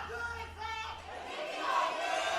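A man's loud cheer from the crowd at a League of Legends esports match, rising and sustained over crowd noise, following brief speech at the start.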